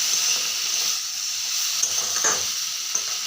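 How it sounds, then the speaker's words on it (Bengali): Spices and potatoes frying in a pan while being stirred, a close, even sizzle and hiss with faint scraping and a few soft clicks, no voices. "মশলাগুলো দিয়ে ভালো করে নাড়িয়ে নিচ্ছি।"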